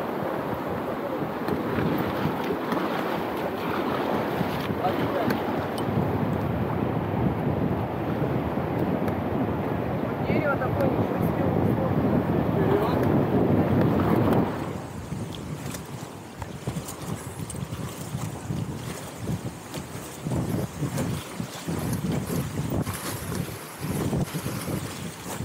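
A rafting boat on the Mzymta river, with paddling, rushing water and wind buffeting the microphone. A loud steady roar eases partway through into a quieter wash with scattered splashes and knocks.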